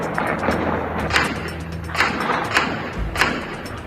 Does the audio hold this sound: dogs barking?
no